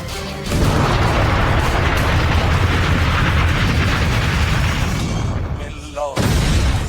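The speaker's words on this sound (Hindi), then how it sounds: "एक बार फिर से देखिए कैसे कार में धमाके हो रहे हैं।" Dense rapid crackling of firecrackers bursting inside a van hung about 40 feet up during a Muharram procession in Ujjain, a continuous loud barrage, booming and echoing, with a short dip before the blasts resume.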